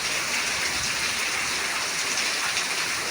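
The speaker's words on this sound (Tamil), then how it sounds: "பாருங்க மழை நல்லா பெய்ஞ்சிக்கிட்டு இருக்குது." Heavy rain pouring down steadily in Tiruppur, a dense, unbroken hiss of water on surfaces, loud and close throughout with no talk.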